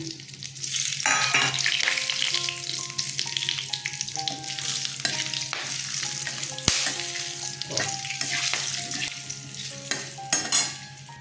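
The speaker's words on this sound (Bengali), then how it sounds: "তেজপাতা শুকনো লঙ্কা দিয়ে দিলাম এলাচ দারচিনি লবঙ্গ দিয়ে দিলাম ফোড়নে" Bay leaf, dried chilli, cardamom, cinnamon and cloves frying in mustard oil as a tempering for prawn malai curry, a continuous close sizzle with occasional stirring and clinks, no talk.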